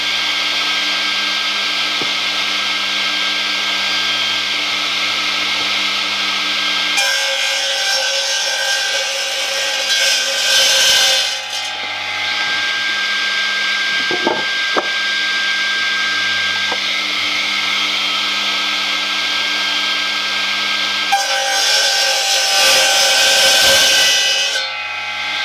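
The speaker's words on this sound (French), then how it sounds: "maintenant on va simplement allumer la machine et couper." Power saw cutting a wooden board, a loud steady motor whine with two harsher bursts of blade biting through the wood, the second near the end.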